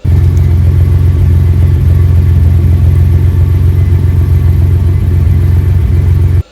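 A Reliant Scimitar fitted with Cherry Bomb exhausts idles close by, giving a loud, steady low burble with an even throb that holds throughout and then cuts off abruptly at the end.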